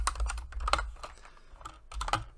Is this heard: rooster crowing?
no